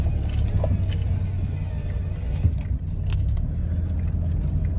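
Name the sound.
1997 Dodge Ram 2500 truck driving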